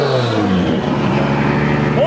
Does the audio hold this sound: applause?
no